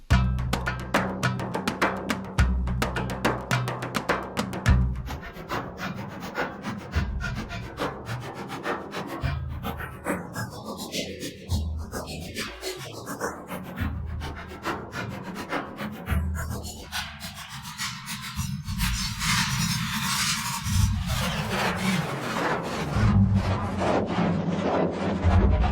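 Audio run through the free Dumpster Fire effect plugin, heavily mangled into a gritty, scraping texture with sweeping filter swoops and a dropout band midway, steady and fairly loud throughout with no talking.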